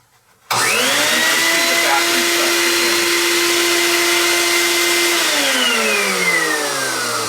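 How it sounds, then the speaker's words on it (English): A shop vacuum switches on with a sudden whine and roars steadily at close range, drawing water through a drain hole, its pitch dropping slightly toward the end. "I plug in the shop vacuum"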